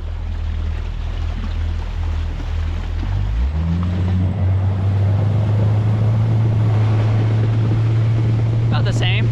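A small boat with a Mercury outboard and a three-blade prop accelerates hard: the low motor drone climbs steeply in pitch partway through, then settles into a loud, steady roar over wind and water noise.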